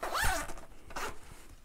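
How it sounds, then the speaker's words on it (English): A zipper being pulled shut on a small travel bag: two quick close zips, the first louder and longer, the second briefer, close up and alone. "Zip it all up."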